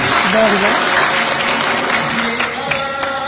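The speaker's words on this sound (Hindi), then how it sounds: "एक जोरदार तालियां मैम के लिए प्लीज" Loud, sustained audience applause fills an award show hall in Delhi, a dense wash of clapping with voices talking over it throughout.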